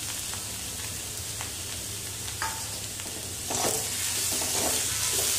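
Masala with chilli and freshly added coriander stirred as it fries in a pan, a steady close sizzle with scattered scraping taps of the spoon that grows a little louder and brighter toward the end.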